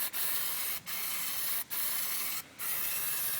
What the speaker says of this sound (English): And I'm just spraying one part at a time.